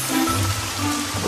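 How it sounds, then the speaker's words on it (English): Rain falling steadily in a dense, even hiss that fills the short moment, close and fairly loud, with a faint low hum underneath and no voices. "Oh, where'd that rain come from?"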